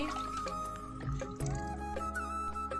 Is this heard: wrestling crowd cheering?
no